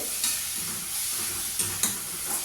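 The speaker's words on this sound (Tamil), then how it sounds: "கொஞ்சம் நல்லா ஐ ஃப்ளேம்லேயே வச்சு இந்த கீரையை கொஞ்சம் அப்படியே வதக்கிடுவீங்க" Ragi spinach greens being sautéed in a pan over high flame give a steady close sizzle with stirring scrapes and a few louder bursts, no voices.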